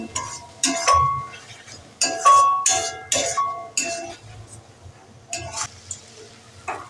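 Mutton masala with salt and meat spice being sautéed in a pan, a utensil clinking and scraping against the metal in repeated close strokes with short pauses between them.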